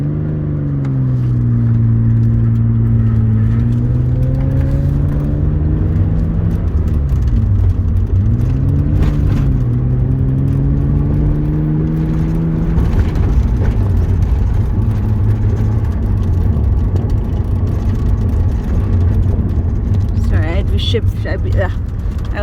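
A manual-transmission car idles, then pulls away in first gear, its mid-pitched engine rising and falling through revs, with steady road and cabin noise; a person talks over it in places.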